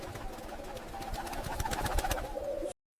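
Pigeons cooing outside, several soft repeated throaty coos over a low background that builds slightly before cutting off abruptly into silence.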